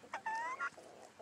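Chickens cluck close by in a short burst of rising, squawky calls, with softer murmuring clucks trailing after.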